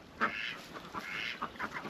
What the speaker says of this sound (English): Quack, quack, get out of here.